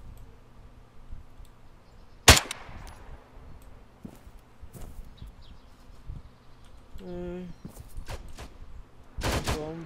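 Gunfire rings out in a shooter video game, with a sharp loud shot, scattered lighter cracks and clicks, and a final burst of shots, heard against a quiet background with no clear talking.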